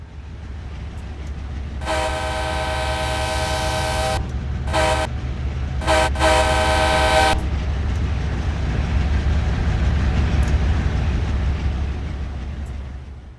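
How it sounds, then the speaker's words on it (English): A raspy diesel locomotive horn, K5LA-style, on an Amtrak P30CH in Train Simulator, sounds in three blasts: one long, one short, then another long, over a steady low engine rumble. "the default horn is the same old raspy K5LA-esque sound"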